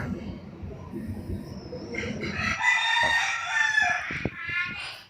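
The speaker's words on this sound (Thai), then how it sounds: "ไก่เต็มบ้านแล้ว" Chickens and a rooster at a home flock crowing and clucking, with a loud near crow rising over low background murmur and several short clucks following.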